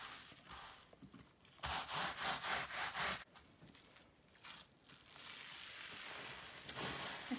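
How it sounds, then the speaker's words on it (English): Wet felt is rubbed by hand through bubble wrap, giving close, rhythmic swishing strokes, a fast run of even back-and-forth rubs in the middle and slower, scattered scrubbing around it. "So I'm going to give it a rub on both sides"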